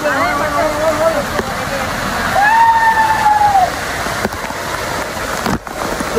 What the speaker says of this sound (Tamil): ஸோ இதுதான் பிரைவேட் ஃபால்ஸு.